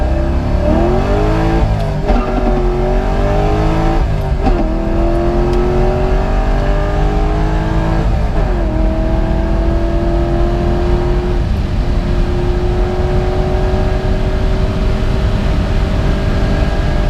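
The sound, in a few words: car accelerating on Federal 595 RS-PRO tires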